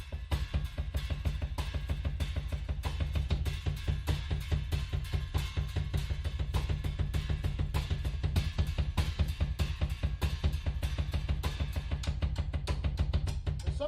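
A drummer plays a continuous pattern of triplets and 16ths, alternating between the hands. Dense, even strokes run steadily from start to finish, close and consistent.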